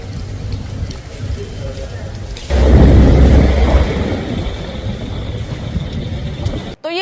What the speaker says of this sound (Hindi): सुबह सुबह बारिश हुई